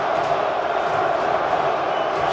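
A stadium crowd of New York Giants fans chants at the 2000 NFC Championship football game against the Vikings, a loud, sustained, distant roar of massed voices with no break.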